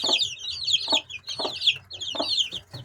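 Young Italian-breed chicks, among them two large black cockerels and a white one, keep up a steady stream of high, near peeping broken by louder clucking bursts about every half second.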